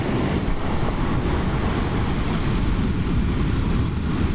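Ocean waves at a beach churn in a loud, continuous roar heavy with wind buffeting the microphone, with no distinct breaks between surges.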